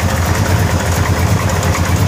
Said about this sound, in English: 454 big block.